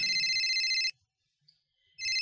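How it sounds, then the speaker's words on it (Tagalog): Mobile phone left behind ringing with an electronic ringtone, two loud bursts of steady high trilling tones separated by about a second of silence, close and clear with no voices. "Kakamadali na iwan yung cellphone. Saan ba yung nagre-ring na yon?"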